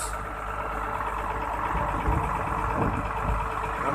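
Hino-engined FRC Ecobus coach idling, a steady low diesel rumble with a faint higher whine, constant and close throughout.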